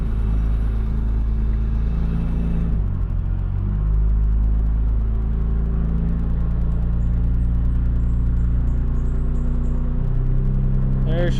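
A Nissan R34 Skyline engine idles rich, a loud steady low drone with a pitch shift partway through, while a voice speaks over it.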